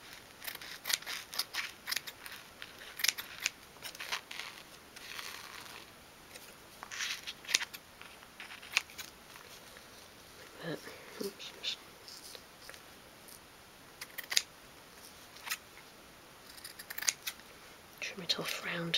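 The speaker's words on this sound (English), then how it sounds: "So then just cut a piece of wad in just to go above that line." Scissors snip through soft wadding being cut for a 1/12th scale dolls house sofa, a run of short, close, crisp cuts in an irregular rhythm with brief pauses between them.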